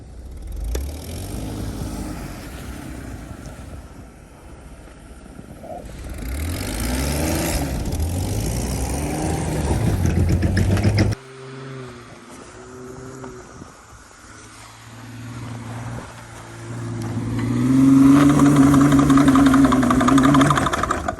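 A rental Jeep engine pulling through snow, with a steady, loud working drone that surges and dips, briefly drops off, then climbs into a strong rising rev near the end.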